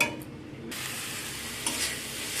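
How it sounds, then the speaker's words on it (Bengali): Spice paste for a Bengali fish egg curry is stirred and fried in oil, with a steady close sizzle that swells after a brief quieter start, plus occasional scraping in the pan. "একটু টাইম নিয়ে মশলাটাকে ভালো করে কষিয়ে নিতে হবে"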